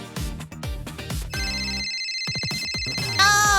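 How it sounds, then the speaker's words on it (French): A telephone rings with a bright electronic ringtone that comes in near the end of a busy stretch of loud thumping hits and music, standing out sharply as it begins. "Puis le téléphone a sonné."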